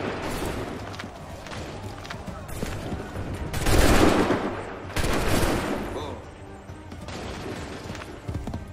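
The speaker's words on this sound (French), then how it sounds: "Attendez le signal! Attendez le signal! Tirez!" A volley of rifle gunfire bursts out in several loud, overlapping blasts, the loudest around the middle, amid shouted commands and background noise.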